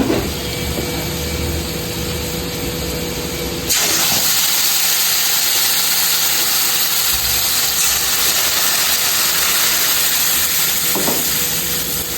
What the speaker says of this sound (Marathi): इथे आपण बॉईल केलेली डाळ टाकून घ्यायची